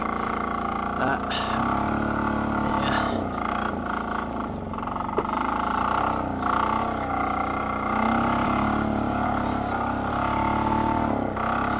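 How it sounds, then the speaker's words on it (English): A Polaris diesel 455 engine runs at full throttle during a ride, a loud, steady droning roar with a continuous tonal hum throughout, with speech over it. "This is full throttle right here."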